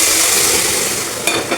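Beef tipped into a hot pan of oil sizzles loudly and evenly, a dense close hiss with a couple of brief spatters toward the end.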